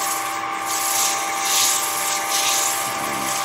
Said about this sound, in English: slow the lathe down a little bit and then use some 600 grit sandpaper and kind of just take off the high spots